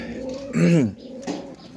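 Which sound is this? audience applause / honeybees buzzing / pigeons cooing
pigeons cooing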